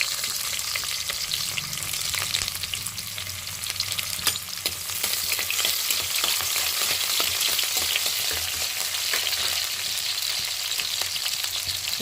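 Onions and green chillies fry in a hot pan, a dense continuous sizzle with crackles and stirring scrapes, close and loud for the whole stretch.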